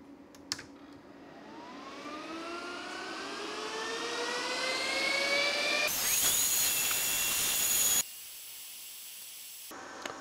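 Cryptocurrency miner fans run on inverter power and spin up with a rising whine that builds into a loud, steady rushing hiss. The sound then drops sharply to a quieter hum near the end, with no voices.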